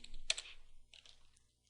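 A command is typed on a computer keyboard, with a few quick clustered keystrokes followed by softer scattered taps, close and faint with no voices.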